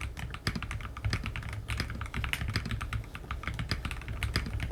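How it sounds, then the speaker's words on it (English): Rapid typing on a Higround Basecamp 65 mechanical keyboard with pre-lubed Venus linear switches, clear polycarbonate keycaps and body on a white PC plate, giving a steady close stream of crisp, thocky key clacks. "when paired with pre-lubed Venus linear switches, provides a nice, pleasant, thocky snap and a smooth typing experience"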